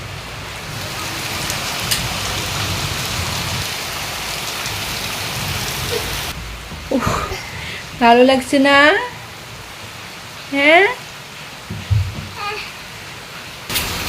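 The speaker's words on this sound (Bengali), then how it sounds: "আজকে বৃষ্টির জন্য খেলতে পারতেছে না। আসো বাবা, বৃষ্টি হচ্ছে" Steady rain falling on surfaces, a dense even hiss that runs throughout and is loudest in the first six seconds, with a child and an adult speaking briefly over it later.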